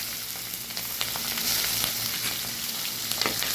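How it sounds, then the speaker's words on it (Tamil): Onions, green chillies and curry leaves fry in hot oil for a carrot buttermilk curry, producing a dense, steady crackling sizzle with a few soft stirring scrapes, close up and with no voices. "வெங்காயம் பச்சை மிளகாய் சேர்த்துருக்காங்க."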